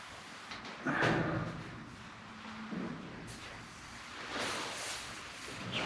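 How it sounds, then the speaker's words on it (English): Short hissing bursts of silicone lubricant aerosol spray on garage door torsion springs come in a few spurts, close to the microphone, mixed with light mechanical handling noises. "So I'm using silicone lubricant spray on these springs."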